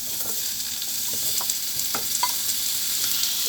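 Chopped chayote fries with garlic, onion and a little flour in a pan, sizzling steadily while a utensil stirs and scrapes a few times, with no talking.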